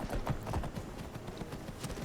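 Horse hooves clip-clopping quickly while riding in the video game Skyrim, a faint rapid clatter of steps over low background noise.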